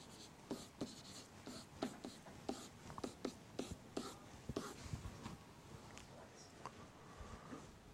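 A pen or marker scratches out sine graph equations in a run of quick, rhythmic strokes and taps, close and fairly quiet, with faint breathy whispering under it.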